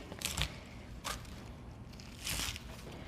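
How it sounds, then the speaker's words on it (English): A few crisp, crunchy knife cuts through cabbage on a board, chopping it into bite-sized pieces, spaced irregularly, close by with a quiet room behind. "I'm gonna chop it into smaller bite-sized pieces for stir frying."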